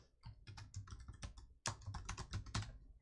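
Fingers type text on a computer keyboard in a quick run of sharp, close key clicks that pause briefly midway, then resume in a faster flurry with no talking.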